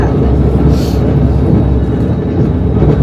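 Busy ambience at KL Sentral train station in Kuala Lumpur, loud and constant, with a low rumble of rail traffic and crowd noise and a brief brighter hiss near the start.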